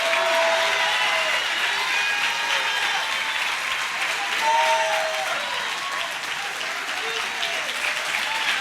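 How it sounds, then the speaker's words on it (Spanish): A church congregation claps with full force in a sustained, dense ovation, with scattered voices and faint cheering blending into the steady applause. "Si le vas a aplaudir, apláudele con todo."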